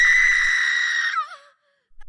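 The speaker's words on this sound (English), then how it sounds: "That's my wife screaming." A woman's high, sustained scream, loud and close, holds steady for about a second before breaking off into a wavering cry and then silence.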